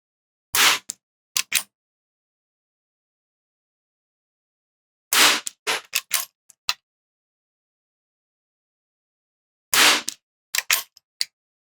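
CCI Quiet 22LR rifle shots fired at a distant target, three sharp cracks spaced about five seconds apart, each followed by quick clicks of the action and faint impact or echo sounds, in silence.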